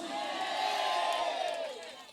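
A crowd at a cooperative's anniversary dance competition bursts into sustained cheering and whooping, loud and continuous, with many voices shouting together before it tapers off.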